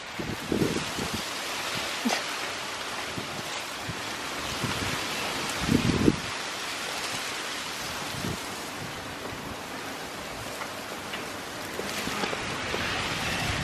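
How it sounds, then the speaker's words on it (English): Wind gusts buffet the microphone in rough, uneven bursts beside a pool, over a steady airy rush, with occasional louder thumps. "I made it out by the pool, but it is indeed rather windy"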